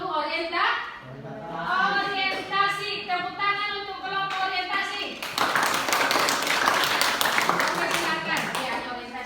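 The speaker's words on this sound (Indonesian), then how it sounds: "Tepuk tangan untuk kelompok orientasi." A classroom group is applauded by children with a burst of dense clapping in the second half, following a stretch of children's chattering voices.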